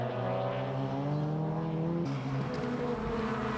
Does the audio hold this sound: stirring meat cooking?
no